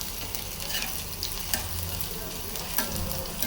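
Dry red chillies frying in hot oil for a tempering, a continuous close sizzle with faint stirring clicks, moderately quiet and without speech.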